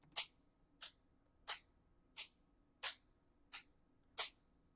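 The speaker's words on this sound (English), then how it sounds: "It actually makes the hi-hat sound more like a shaker." Electronic hi-hat sample run through a G.O.A.T lossy effect so it takes on a grainy, shaker-like texture; seven evenly spaced bright hits repeat steadily, close and alone over a faint hiss.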